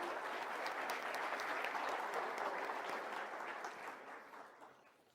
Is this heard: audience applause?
yes